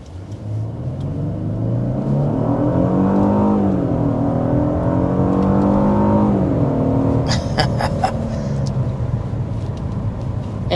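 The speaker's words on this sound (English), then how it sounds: "we want to go ahead and start with a hard acceleration" A 2025 Genesis G80 sedan under hard acceleration, its engine droning and rising in pitch through gear changes, with road rumble underneath, loud and close from inside the cabin.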